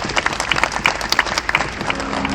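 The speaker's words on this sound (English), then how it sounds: "can I please get a big round of applause for our keepers?" Audience applause for the keepers at a fur seal training show, a crowd clapping steadily and fairly close with scattered brighter claps.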